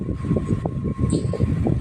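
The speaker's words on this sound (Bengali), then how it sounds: "দেখো আমাদের ট্রেন চলে আসছে" A train pulls into a railway station in Mumbai, a steady low rumble of rolling wheels and cars with a faint brief squeal near the middle, fairly loud and close, with no talking.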